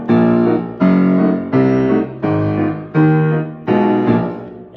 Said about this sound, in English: I had the pedals set on the organ like this blasting sound with sort of a rhythm like this.